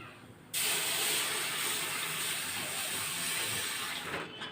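Milk poured into a hot pan of fried rava and boondi for boondi payasa, a loud steady sizzling hiss that bursts in suddenly and holds close and even throughout.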